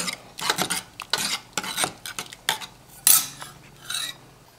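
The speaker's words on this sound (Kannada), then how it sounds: "ಸರಿ ಒಂದ್ಸರಿ ತಿರುಗ್ಕೊಳ್ಳಿ" Ridge gourd and lentil dal stirred in a pot, a series of close scraping strokes and metal clinks from the spoon, fairly loud and uneven in rhythm.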